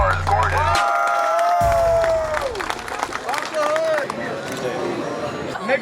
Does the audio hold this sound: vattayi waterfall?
no